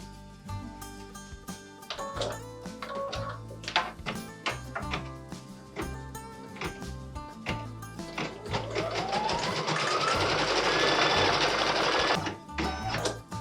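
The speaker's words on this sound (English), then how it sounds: "I'm going to change my thread again and we're going to stitch the top handles of the wellies." An embroidery machine stitches the top handles of a wellies design, a steady rapid needle clatter with rhythmic mechanical thumps that builds into a dense, loud whirring run near the end, close up with no talk.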